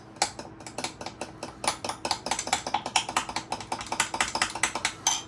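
A metal spoon scrapes and clinks against a pan while honey thyme pork tenderloin is served up, a quick, steady run of sharp close scraping strokes repeating rhythmically without talk.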